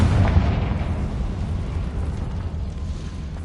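Casting the Confringo fire spell in Hogwarts Legacy sets off a loud, booming burst that rolls into a rumbling, fading tail, heard alone without talk.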